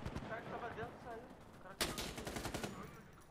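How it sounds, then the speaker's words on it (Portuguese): Gunfire from the video game Insurgency: Sandstorm, with a sharp burst of shots standing out over a busy background of game sound and faint voices, followed by several more rapid cracks. "Um atirando no outro."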